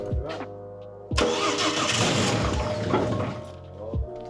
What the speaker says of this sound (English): we didn't think it would even crank over the way it just did